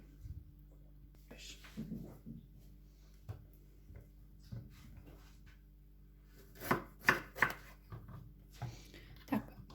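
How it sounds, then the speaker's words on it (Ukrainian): A knife chops vegetables (onion, peppers, tomato, mushrooms, cucumber) on a board in scattered, uneven strokes, a few light taps at first, then a louder cluster of quick cuts near the end. "Зараз я буду нарізати цибулю, перець, помідору, шампіньйони і огірки."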